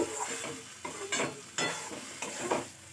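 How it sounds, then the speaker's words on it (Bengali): Salt is worked into a thick masala for a dhaba-style egg curry, the spoon scraping and stirring in bursts against the pan over a faint sizzle, quiet and close. "লবণটা ভালো করে মিশিয়ে নেব।"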